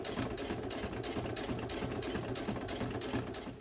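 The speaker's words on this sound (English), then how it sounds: "We'll do let's do a little back stitch." A sewing machine back-stitching an apron, running in a fast, even mechanical chatter of needle strokes that carries on steadily at close range, with no talk over it.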